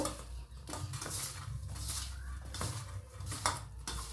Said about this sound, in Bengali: দিয়ে আমি এটাকে খুব ভালো করে মেখে নেব।